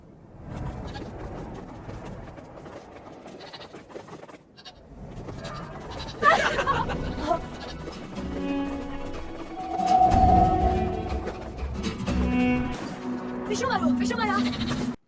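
Mountain goats bleat in several wavering calls, some loud and close, mixed with other animal and background sounds.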